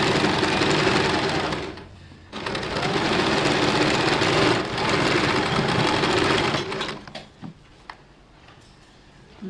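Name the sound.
sewing machine stitching folded blouse fabric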